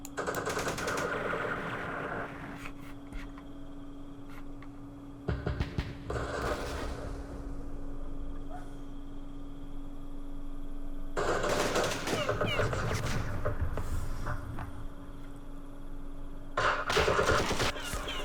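Bursts of machine-gun and rifle fire in the Vietnam-era wargame Campaign Series Vietnam, at the Battle of Mao Khe, come as several dense crackling volleys of a few seconds each, with a low steady hum between them.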